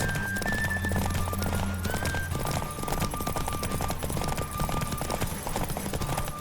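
Steady, rapid hoofbeats from a horse galloping in a race in The Witcher 3, loud and continuous under a musical backdrop.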